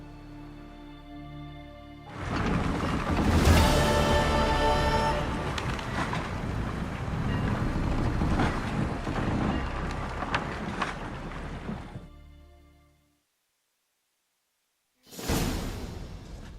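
A boat setting sail in The Witcher 3, a loud swelling rush of water and wind lasting several seconds with deep rumbling underneath, fading to silence before a short burst of sound returns.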